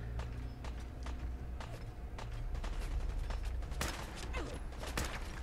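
Rapid enemy gunfire in Fallout 4 crackles in sharp bursts, with clustered shots and a louder volley near the end over a low, steady game background.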